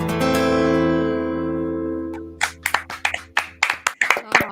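A sustained musical chord fades out, then a small group starts clapping, scattered and uneven at first, close by.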